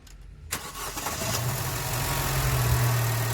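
An Opel Astra J 1.4 Turbo engine with an evaporative valve fault keeps running after being switched off, kicking in abruptly after a short quiet moment and settling into a loud, steady, rising drone with a low hum.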